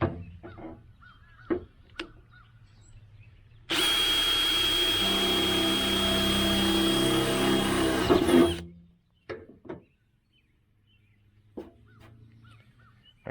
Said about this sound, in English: So I need to drill a hole for the wire to go down in.